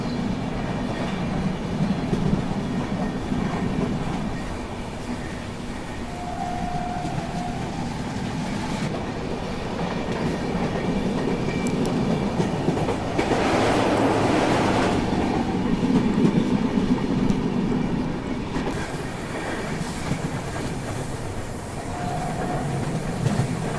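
Trivandrum Rajdhani Express rolling along the rails on its approach to Ernakulam Junction, a steady rumbling train noise with rhythmic clickety-clack and a swell of louder rattling midway, heard from on board with no talking.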